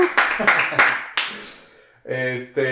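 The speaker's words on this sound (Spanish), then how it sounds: "por favor un aplauso a Noé" A handful of sharp, separate handclaps welcoming a podcast guest, fading out before a voice begins talking.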